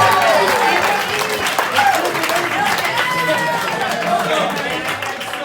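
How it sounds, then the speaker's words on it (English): Wedding reception guests clap loudly and continuously as a group while voices carry over the applause. "a round of applause for the jacket too"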